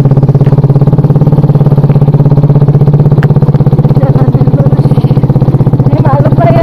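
A motorcycle climbs a steep hillside route on Gunung Kencana, its engine thrumming close and loud in a fast, steady pulse throughout, with a voice talking briefly over it.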